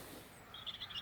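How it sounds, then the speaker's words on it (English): A huge flock of crows flies over a cold Scottish garden, giving a brief run of faint, distant calls above a low outdoor hush. "There's a huge flock of crows flying over."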